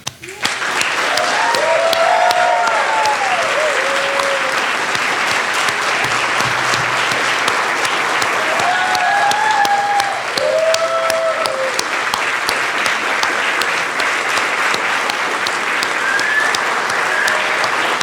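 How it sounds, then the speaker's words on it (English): A commencement crowd gives the graduates a standing ovation, with loud, sustained applause filling the hall steadily for the whole stretch, and faint cheers rising occasionally above the clapping. "We all got a standing ovation."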